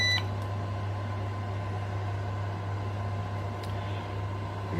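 A biltong maker's timer gives a short electronic beep as it is switched off and reset, then a faint second chirp over a steady low appliance hum.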